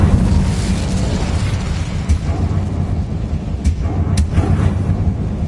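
A fiery Incendio spell blasts out in the Hogwarts Legacy video game, a loud continuous roaring burst of flame with rumbling low end and a few sharp crackles near the end.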